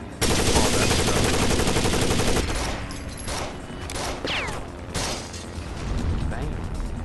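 Light machine gun fire in Rainbow Six Vegas 2, a dense, loud sustained burst for the first two seconds, then scattered shots and gunfire under game noise and occasional voices.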